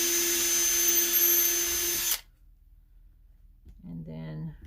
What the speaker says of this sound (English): I usually just drill these at the same time so the holes go where I want them